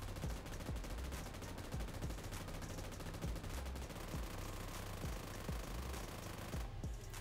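Automatic gunfire from a new gun in the mobile game PUBG New State, fired in rapid, sustained bursts with sharp repeated reports and brief gaps, loud and steady, with a short pause near the end.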